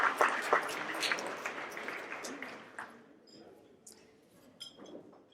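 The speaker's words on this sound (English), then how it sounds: "let's give a big round of applause to Terry Casey" Breakfast guests at a research partner thank-you event clap for an organiser, a burst of applause that fades away, with clinking glasses and dishes underneath and some murmured talk.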